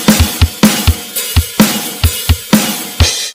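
A drum kit plays a steady groove at standard tempo: repeated low kick thumps, crisp snare hits and shimmering open hi-hat washes in an even rhythm, loud and close with no voices.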